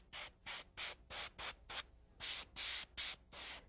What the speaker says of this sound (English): You'd be spraying one hand, building up the color slowly on each nail